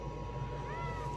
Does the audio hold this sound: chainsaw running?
no